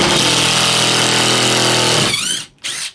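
A DeWalt 20-volt impact driver backs out a screw with a loud, steady rapid hammering for about two seconds, then winds down and stops briefly before a second short burst of whirring.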